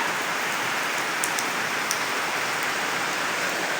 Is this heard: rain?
yes